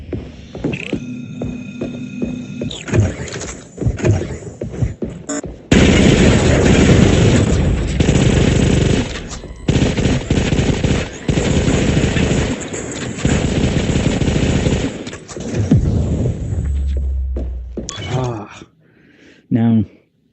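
Rapid bursts of Uzi submachine gun fire in a video game, loud and dense over a steady hum and booming effects, with a voice talking across parts of the stretch.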